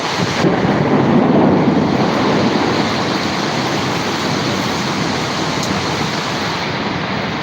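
Thunder rolls through a storm with lightning, strong wind and rain at Jirani Bazar, a deep rumble swelling early over a steady, loud wash of wind and rain.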